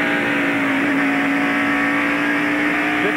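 NASCAR stock cars at the 1993 Food City 500 accelerating on a restart, engines roaring loudly and steadily as the field powers away, with no commentary over the sound.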